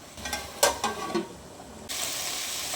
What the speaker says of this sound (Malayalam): ചിക്കനിൽ നിന്ന് വെള്ളമൊക്കെ നല്ലതുപോലെ ഇറങ്ങി വന്നിട്ടുണ്ട് ഇത് ഇടയ്ക്കിടയ്ക്ക് ഒന്ന് ഇളക്കി കൊടുക്കാം